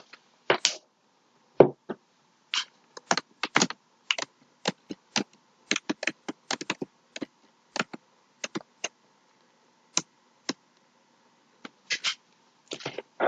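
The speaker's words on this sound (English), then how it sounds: "You could type it in." Keys tapped on a computer keyboard while entering a location into the Windows 11 Maps search box: sparse, irregular clicks and short bursts of keystrokes, close and fairly quiet, with no talking.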